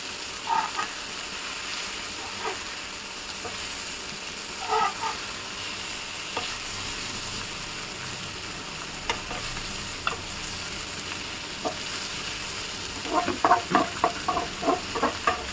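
Eggs fry in a partly covered pan with a steady soft sizzle throughout, joined by occasional light pops and a burst of crackling near the end; no one speaks.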